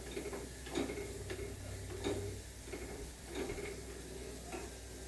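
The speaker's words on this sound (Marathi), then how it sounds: "हा गॅस घालवते म्हणजे दग आहे तोपर्यंत फिरून घेते जरासा तांबूस करते" Browned garlic is stirred in still-hot oil after the gas flame is switched off, a softening sizzle under regular ticking scrapes and taps of the spoon against the pan.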